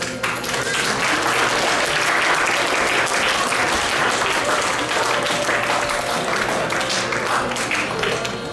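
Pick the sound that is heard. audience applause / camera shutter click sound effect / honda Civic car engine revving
audience applause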